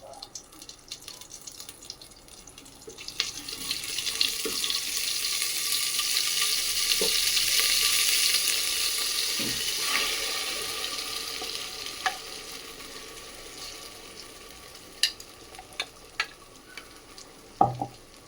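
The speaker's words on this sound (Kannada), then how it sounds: "ಸೊ ಡೈರೆಕ್ಟು ಇವಾಗ ಮಸಾಲೆ ಹಾಕ್ತಿದ್ದೀವಿ." Ground masala paste fries in hot oil, a sizzle that swells and peaks midway and then settles, broken by scattered clinks and scrapes of stirring toward the end.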